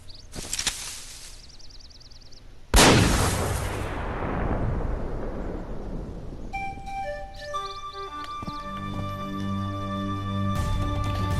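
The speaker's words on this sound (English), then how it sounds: "should probably check out that gunshot, though." A single loud gunshot in the jungle stage of the Kingdom Hearts video game cracks out and rings into a long decaying boom, then game music and chiming tones follow, with no talking.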